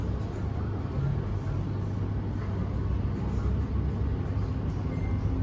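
A Great Western Main Line train pulls away from Burnham station, heard from inside as a steady low rumble and rolling hum at moderate level throughout, with no clear talking.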